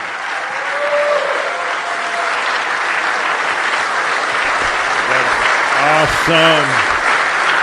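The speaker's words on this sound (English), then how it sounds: "a round of applause for the President of the United States of America" A large summit audience applauds the President of the United States in Miami, steady loud clapping throughout with a few voices calling out over it near the end.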